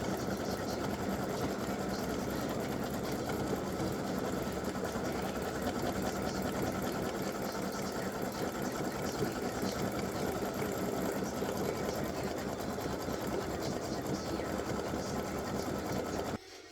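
An embroidery sewing machine stitches an appliqué design, a fast, steady, close mechanical whir and rattle running continuously without pause, no talk.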